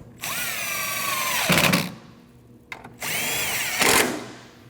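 A power drill tightens 10mm bolts on a 2013-2019 Ford Escape 1.5L during high pressure fuel pump replacement, two loud whirring bursts each ending in a brief strained bind, separated by a short pause.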